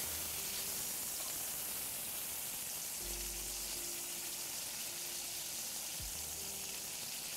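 Duck breast frying skin-side up after the flip in a hot pan, a steady soft sizzle and spatter that holds evenly throughout, with a few low bumps and clunks of the pan.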